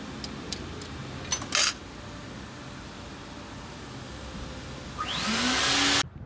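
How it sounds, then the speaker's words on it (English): A vacuum cleaner sucks up broken glass inside the rear passenger door of a Jeep Grand Cherokee WK; a few sharp rattles and clinks come early, then the motor spins up loudly near the end and cuts off abruptly. "I just got done vacuuming the inside of the door."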